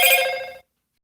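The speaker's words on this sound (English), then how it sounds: "Sorry, phone." A telephone ring, one short bright burst of bell-like tone that cuts off abruptly into silence.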